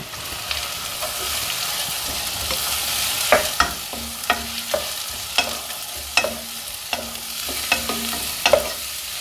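Whole spices and finely chopped onion fry in a pan with a soft, continuous sizzle, while a spoon scrapes and clinks against the pan in repeated stirring strokes, close by and without speech.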